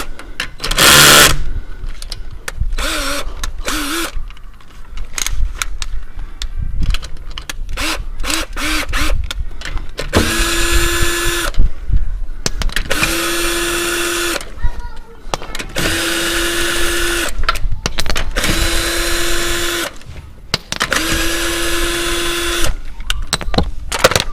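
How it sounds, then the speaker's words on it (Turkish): Cordless drill loosening the front brake caliper bolts on a Fiat Egea during a brake pad change: several loud, whining whirring bursts of a few seconds each, separated by pauses, with someone talking in between. "Şimdi şarjlı matkap yardımıyla gevşeteceğim."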